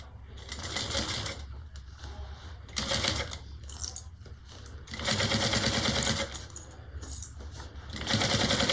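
A sewing machine back stitches piping onto a fabric bag, running in several loud bursts separated by brief pauses, close to the listener.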